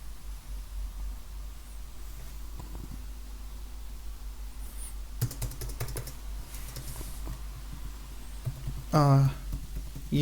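Typing on a computer keyboard during router setup at a console, with a steady patter of keystrokes that turns into a brief louder burst of rapid key presses near the end, heard close.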